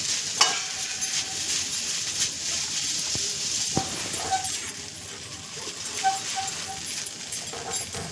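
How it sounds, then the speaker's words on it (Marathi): Poha with turmeric is stirred in a pan: a spoon scrapes and turns the flakes against the metal over a soft, steady sizzle, with a few clinks and taps along the way. "आता आधी ते ढवळून घ्यायचे किंवा मिक्स करायचे छानपैकी, म्हणजे संपूर्ण हळद त्या पोह्यांना नीट लागते"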